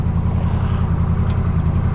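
A Honda Rebel 1100 fitted with a Coffman's Shorty exhaust sits in neutral, its engine throbbing loud and close in a steady, pulsing rumble.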